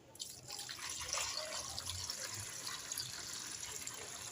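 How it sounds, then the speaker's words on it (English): Water poured into a mix for making liquid soap, a steady, faint splashing trickle that runs continuously for a few seconds with no talking. "So let's add water, please."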